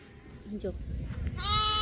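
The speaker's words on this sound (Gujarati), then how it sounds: "જો બકરી અને ઘેટા બધા ભેગા થઈ ગયા" Sheep and goats gathered together outdoors, with a clear close bleat rising near the end over a low ambient murmur and nearby voices.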